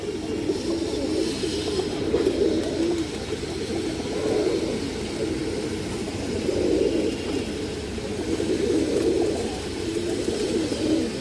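Musoldom breed pigeons coo in soft, repeated low throaty bursts at close range, over a faint steady background hum.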